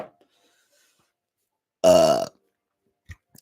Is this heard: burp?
yes